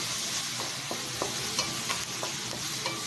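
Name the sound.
sautéing white onion and finger pepper in a hot pan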